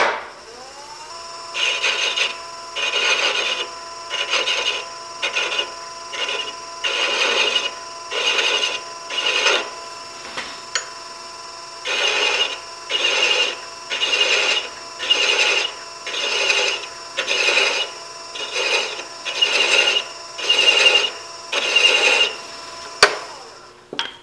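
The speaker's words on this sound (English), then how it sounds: "Now I've got my lathe speed about 250 or 300 RPM." A metal lathe running around 250–300 RPM cuts threads, giving a steady rhythmic rasping scrape that pulses in regular strokes over a constant machine hum, loud and close.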